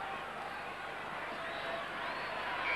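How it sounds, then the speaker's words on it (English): Stadium crowd at a 1980 Manly versus South Sydney rugby league match at Brookvale, a steady wash of distant murmuring spectators that swells slightly toward the end. "Reasonable crowd here at Brookvale today."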